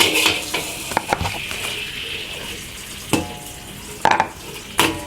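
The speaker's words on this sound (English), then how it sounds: "Mix the rice with the egg quickly before the egg yolk is hardened." Cooked rice and raw egg yolks are stirred in a wok over low heat, a steady soft sizzle broken by sharp scrapes and clinks of a utensil against metal, close and alone.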